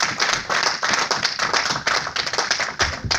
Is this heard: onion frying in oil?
no